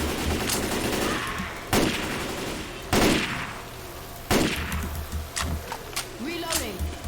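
Gunfire crackles in the video game Left 4 Dead 2, with three heavy booming bursts over continuous shooting and rattling, a player speaking through it.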